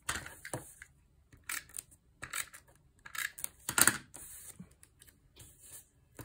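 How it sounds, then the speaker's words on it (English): Sharp snipping and crisp rustling sounds as scissors cut paper, in several quick irregular bursts, close by, with quiet pauses between cuts. "I'm just going to slice it down with my scissors"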